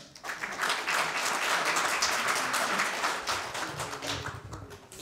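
Applause from the audience at a Korean policy forum on spinal cord injury rehabilitation, a dense crowd of clapping hands that swells quickly, holds steady, then thins slightly toward the end.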